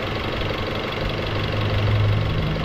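A Ford Escape 2.3 engine runs rough with a sensor unplugged, a steady close-up knocking idle with uneven vibration throughout.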